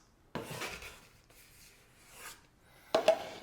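Scraping of leftover acrylic paint from the bottoms of plastic cups, a few short close rubbing strokes with quiet gaps between them.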